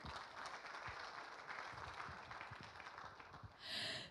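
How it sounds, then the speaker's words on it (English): Round of applause from the audience at the Jakarta Investment Forum 2023 opening ceremony, a faint, steady patter of clapping throughout the hall with scattered sharper claps, swelling briefly louder near the end. "let us give the biggest round of applause for everyone here"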